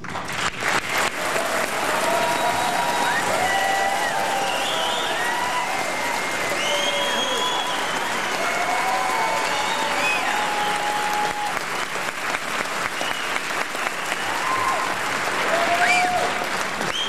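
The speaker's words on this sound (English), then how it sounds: "give them all the biggest applause" A large audience applauds at a Rock and Roll Hall of Fame induction ceremony, with dense sustained clapping and faint cheers and whistles carrying on for the whole stretch.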